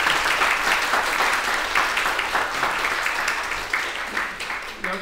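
A gathering at a bar council lecture applauds a visiting doctor, many hands clapping together in a steady, full burst that holds for several seconds before thinning slightly at the close.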